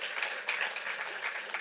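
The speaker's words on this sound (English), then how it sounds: "that deserves applause" Audience applause at a fair housing month evening event, a dense, steady wash of many hands clapping at moderate volume with a few voices underneath, continuing for the whole stretch.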